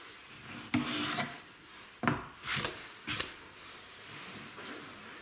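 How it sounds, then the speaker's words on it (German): Coarse sandpaper worked by hand along the edges of a homemade wooden turned handle in a workshop, giving a few short rasping strokes in uneven bursts, close and fairly loud, with quiet gaps between them. "die tue ich jetzt bloß mit dem Schleifpapier ein bisschen schleifen"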